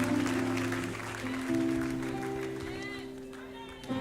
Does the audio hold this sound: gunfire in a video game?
no